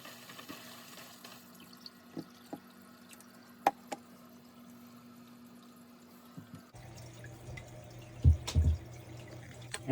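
Water trickling and dripping into a home fish tank during a top-up, with faint pattering and scattered sharp drips over a steady hum, then a louder gurgling burst near the end.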